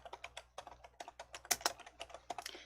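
Typing on a computer keyboard while working in an Excel spreadsheet, a quick irregular run of close, crisp key clicks with a few louder strokes and short pauses in between, heard alone.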